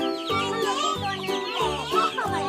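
Young chickens cheep and cluck in a continuous run of overlapping high, wavering peeps nearby, with some faint voices mixed in.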